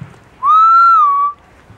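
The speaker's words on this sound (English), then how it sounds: "can you copy me and whistle?" A person whistles a single clear, steady note that rises slightly and holds for about a second before fading, loud and close in a quiet abandoned cemetery.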